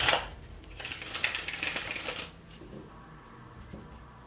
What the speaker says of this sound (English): I'm going to give this 5 shuffles